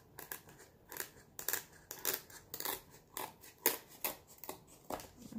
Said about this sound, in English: So we'll just cut that off with some scissors.